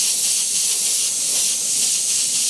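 An airbrush sprays paint over a clown template, producing a steady, loud airy hiss that runs unbroken through the moment with no speech.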